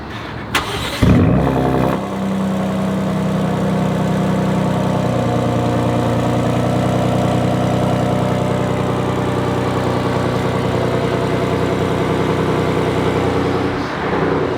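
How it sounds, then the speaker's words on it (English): A Gen 3 Ford Raptor pickup truck engine cranks and catches with a loud cold start through its trombone exhaust system, then settles into a steady, rumbling idle that runs on close by. "we're gonna do a cold start and see what the exhaust sounds like"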